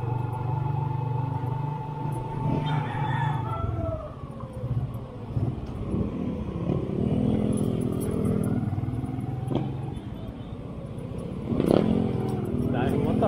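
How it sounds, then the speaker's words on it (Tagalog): Motorcycles pass along a busy street in the Philippines, engines droning and revving by at close range with a loud swell near the end, over steady traffic rumble and occasional voices. "Dahil motor ah, puro motor ah."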